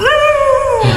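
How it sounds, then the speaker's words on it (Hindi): A stray dog outside at night gives a single drawn-out whine or yelp that holds steady and then bends downward, fairly close and clear, with no talking over it. "कुत्ते भी बहुत भौंक रहे हैं बाहर"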